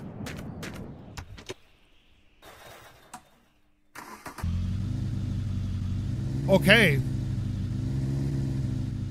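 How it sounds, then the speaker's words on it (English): In The Long Drive video game, a car engine cranks and catches after a few clicks and a brief spoken word, then idles with a steady rumble and revs up once midway. "It might not even start. Like, it could be a diesel engine."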